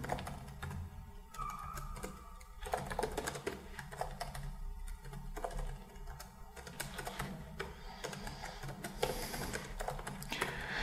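Keys clatter on a computer keyboard in a steady run of light, quick taps as a password is typed, with short pauses between bursts.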